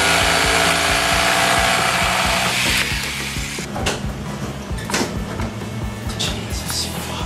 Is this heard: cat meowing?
no